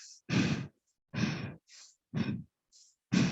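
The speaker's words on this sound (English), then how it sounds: "this is called shallow breathing" Exaggerated shallow breathing demonstrated in an anxiety self-care workshop: quick, rhythmic inhales and exhales, about four breath pairs, close and breathy, with no talk.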